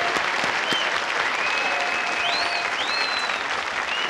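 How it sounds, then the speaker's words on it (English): Sustained applause from a television game show studio audience, steady and dense throughout, with faint whistles or tonal squeals riding above the clapping. "You may applaud yourselves, the West Point Society"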